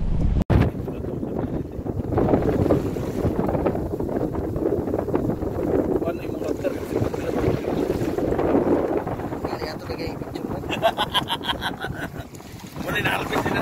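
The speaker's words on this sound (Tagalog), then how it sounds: "Ang lakas ng hangin." Strong wind buffeting the microphone with a constant roar on a fishing trip off Jeddah, mixed with water and boat noise; a few voices are heard faintly underneath.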